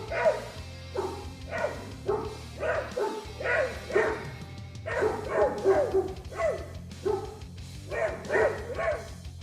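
A pack of dogs surrounding a puma barks in excited, overlapping bursts, loud and close, keeping up a rapid, continuous chorus of yelps and woofs.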